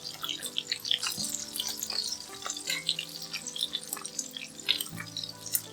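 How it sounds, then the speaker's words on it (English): Garlic and onion frying in hot rendered pork belly fat in a pan, a steady close sizzle with crackling pops and faint clinks, no talking. "Once it cools, drop your garlic, then onion straight into it."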